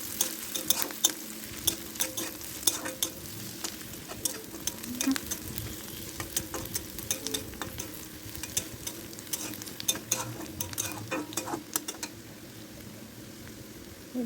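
Garlic and chopped onion sizzle in a pan while a utensil stirs them, with a steady frying hiss and repeated scraping strokes at close range.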